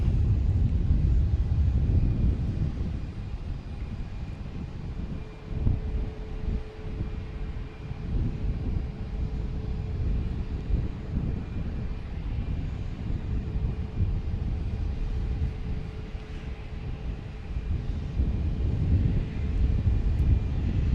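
An airplane coming in to land at Boston Logan Airport, with a steady low engine roar and wind rumble that holds loud throughout at moderate distance, with no voices.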